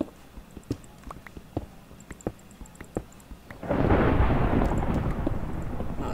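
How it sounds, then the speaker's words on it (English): Thunder in Minecraft: after a run of soft clicks and taps, a loud rolling rumble swells in and keeps roaring through to the end. "Oh, it's really thundering"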